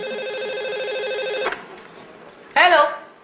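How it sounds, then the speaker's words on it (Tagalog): A telephone rings with a steady, repeating electronic trill for about a second and a half, then stops; a voice speaks loudly right after. "Nag-ring na ba yung telepono?"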